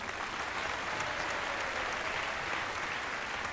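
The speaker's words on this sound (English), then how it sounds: "how about a big round of applause for Patrick Puffer?" A live stage-show audience applauds a performer being introduced, steady dense clapping filling the whole stretch at fairly loud level with no voices over it.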